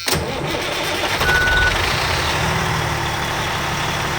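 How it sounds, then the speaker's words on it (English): A fire truck engine cranks and catches, then settles into a loud, steady diesel rumble close by, running continuously with no talking. "I'm gonna start the truck."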